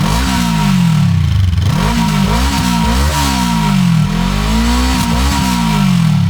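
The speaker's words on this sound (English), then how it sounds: "the only downside of this engine for me is the 180-degree crank, which gives it a bit of a bland sound" A Honda CL500 Scrambler's 180-degree-crank parallel-twin engine revs up and down through its exhaust several times, loud and close, with throttle blips rising and falling in a steady burbling drone.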